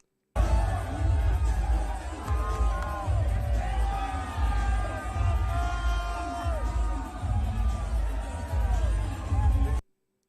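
A UFC 273 arena crowd roars and cheers for Florida Governor Ron DeSantis, a loud, dense wall of whoops and shouting that swells and holds steady for about nine seconds.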